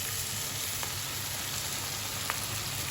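Chicken cooking for bhindi gosht sizzles in a pan after previously fried okra goes in, a steady, moderately quiet frying hiss with a few faint ticks and pops throughout and no voices.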